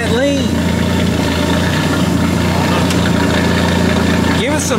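A turbocharged Ford F-150 engine runs loud and steady close by, a continuous idle-like rumble with a sharp whistling sweep at the start and end, while voices talk over it.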